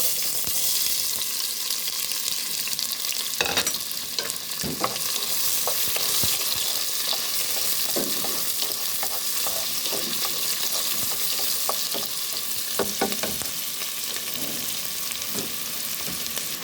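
Onions frying in hot oil, a steady close sizzle running throughout with occasional clicks and scrapes of stirring and a few faint water-like splashes.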